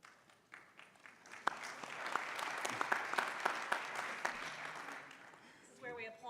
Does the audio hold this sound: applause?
yes